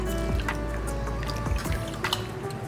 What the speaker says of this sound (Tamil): இந்த அளவுக்கு நீங்கள் தண்ணி ஊற்றுனீங்கன்னா போதும்.